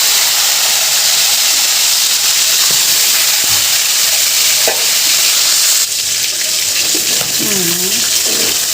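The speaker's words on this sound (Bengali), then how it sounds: "আলু ভাজা হয়ে গেছে, এখন মাংসটা ভেজে নেবেন।" Chicken meat frying in a pan after potatoes: a steady loud sizzle and hiss with occasional stirring scrapes, continuous and close, under faint talk.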